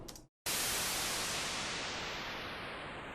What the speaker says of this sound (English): So that's your basic white noise downshifter.